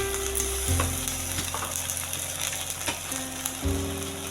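Spices and ginger paste sizzle in oil in a pan while a curry of small potatoes is cooked, making a loud steady frying hiss with brief stirring clatters and no voices.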